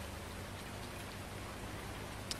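Steady rain falling on a farm in Farming Simulator 19, a soft even hiss of drops throughout with one brief louder patter near the end.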